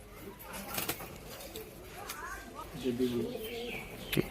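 Mukhi pigeons, a male and a female, cooing softly in a collection, low throaty coos rising and falling beneath a voice talking over them.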